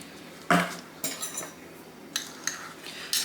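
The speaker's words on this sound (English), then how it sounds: "I'm just going to stir this in there" Goldenrod-infused oil stirred in a glass jar, a few sharp clinks and scrapes of a utensil against the glass, close and fairly quiet, with short pauses between strokes and no talking.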